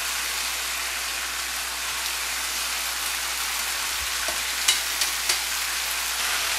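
Pork chops fry in a pan with a steady, dense sizzle and crackle throughout, with a few sharper pops and spatters near the end; nobody speaks.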